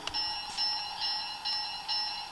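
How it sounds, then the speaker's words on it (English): A steady electronic bell tone rings on and off in short repeated pulses, fairly clear against a quiet background. "Well, that's a bell."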